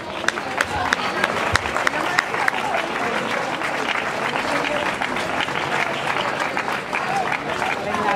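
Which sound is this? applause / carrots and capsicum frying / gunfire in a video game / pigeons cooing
applause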